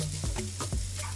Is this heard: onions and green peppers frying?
yes